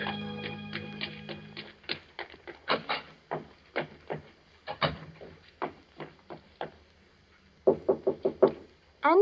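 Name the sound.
knock on a door, radio drama sound effect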